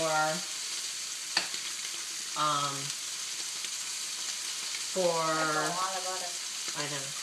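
Ribeye steak frying in a pan with butter: a constant close sizzle runs throughout, while a voice speaks in short phrases over it.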